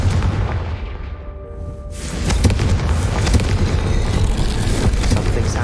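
Confringo explosion spell cast in a Hogwarts video game: a booming blast bursts in at about two seconds and leaves a loud, dense rumble of debris and crackling that fills the rest of the clip, with no talk.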